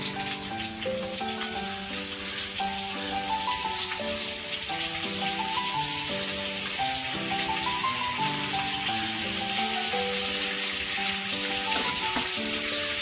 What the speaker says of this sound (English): So once the oil is nice and hot, fry the sliced onion